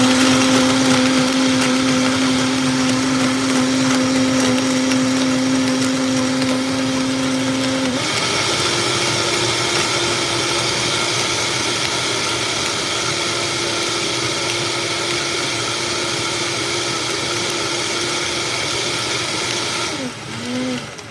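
Blender whirring steadily as a smoothie of fruit such as strawberries, blueberries and banana blends, loud and continuous, shifting pitch midway and winding down at the end.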